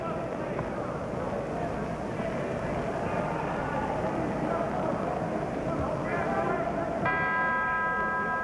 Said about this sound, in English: There's the bell that ends round number 4